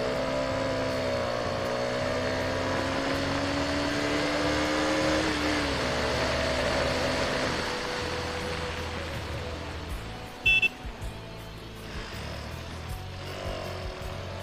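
A KTM Duke 250 motorcycle engine revs during a power test, a steady tone climbing in pitch then dropping away, followed by quieter idling and a short sharp click.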